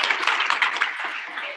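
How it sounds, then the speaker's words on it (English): A round of audience applause for a group being thanked at a live-streamed alumnae chapter gathering, a steady wash of clapping lasting over a second, moderately distant, with voices faintly mixed in. "Let's give them another round of applause."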